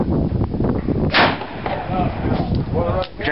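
A gunshot cracks at an outdoor gun range, one sharp broadband burst near the middle, loud and close, over a rumbling background of wind and handling noise.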